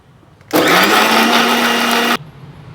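A mixer grinder whirs loudly and steadily for under two seconds, grinding cumin and spices for avarekalu upsaaru, a village-style field bean curry, then cuts off abruptly.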